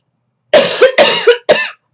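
Three sharp, close coughs in quick succession, each a short harsh burst followed by a brief rasp.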